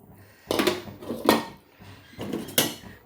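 Parboiled rice goes into a pot of ground coconut milk for coconut milk rice, heard as three rattling, scraping bursts against the metal pot at close range, separated by short quiet gaps, with no talking.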